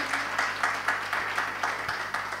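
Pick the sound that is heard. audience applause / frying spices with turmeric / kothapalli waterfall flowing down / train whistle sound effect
audience applause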